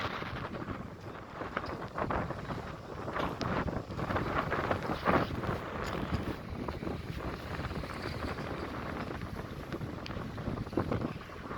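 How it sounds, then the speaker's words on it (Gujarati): Strong wind gusts across Dudhani lake near Silvassa ahead of forecast rain, roaring and buffeting the microphone in a continuous, dense rush with swelling surges. "એના કારણે અહીંયા ચારે બાજુ જબરજસ્ત પવન ફૂંકાઈ રહ્યા છે."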